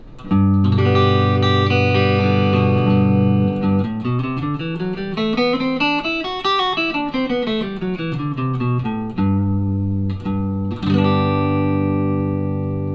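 Warm, full electric guitar sound played on the neck pickup: a held chord, then a run of single notes climbing up and back down, ending on ringing chords.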